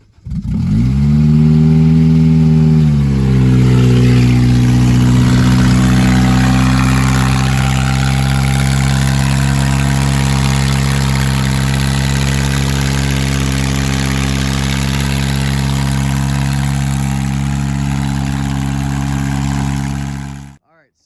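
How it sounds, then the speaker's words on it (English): A Toyota MR2 Spyder with a swapped K24 engine starts for the first time: a short cranking whir catches into a loud, close rev, then settles into a steady, even idle. "First startup, K24 MR2."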